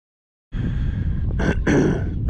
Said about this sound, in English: Please excuse the coughing and spluttering.